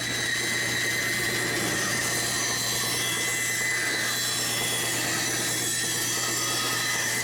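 A homemade band saw fitted with new blade guides cuts through wood with a steady, loud, continuous whine and rasp over a low motor hum, close and unbroken, with no voices.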